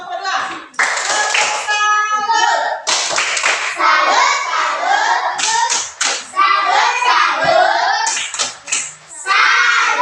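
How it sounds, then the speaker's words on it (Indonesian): A classroom of children claps together for a student group after a lesson, with bursts of loud, close clapping mixed with children's voices and shouts running throughout. "silakan kasih tepuk salut sama kelompok 2"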